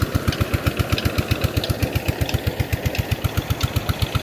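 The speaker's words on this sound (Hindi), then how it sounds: "इधर जी ट्यूबवेल चल रहा है" A tubewell pump engine runs steadily out in the fields, a loud, close single-cylinder chugging with fast, even thumps continuing unbroken for about four seconds before cutting off.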